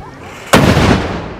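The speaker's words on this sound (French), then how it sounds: "ceux qui tiennent cette association et qui tirent à la bombarde, qui nous explosent les oreilles" A medieval bombard, a first-half 15th-century veuglaire artillery piece, fires at a medieval festival: one sudden loud blast with a long rumbling decay after a brief quiet lead-in.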